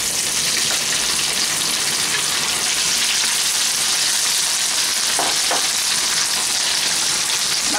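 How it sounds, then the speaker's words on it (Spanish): Chickpeas fry with golden garlic in a pan, a steady loud sizzle and crackle that holds evenly throughout, with a couple of faint clinks near the end. "y tapamos y dejamos que se sofrían con los ajitos"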